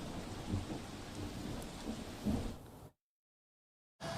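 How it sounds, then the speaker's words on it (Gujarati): Heavy rain pours in Surat in a dense, steady roar with low rumbling, then cuts to silence for about a second before the downpour returns. "સુરત શહેરમાં છેલ્લા 1 કલાકથી જે રીતે ધોધમાર વરસાદ વરસી રહ્યો છે"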